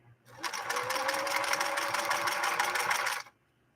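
A 1968 Singer Model 626 sewing machine runs a straight stitch, whirring steadily and loudly for about three seconds before stopping abruptly.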